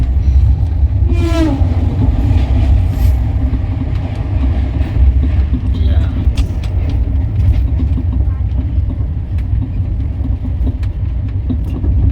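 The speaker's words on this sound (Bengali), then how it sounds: "ভোরবেলা উঠে দেখলাম ট্রেনটা এই জায়গা দিয়ে যাচ্ছে" A train passes along the track at dawn, a loud continuous rumble and rattle of wheels and carriages filling the scene, with a brief whistle-like tone near the start.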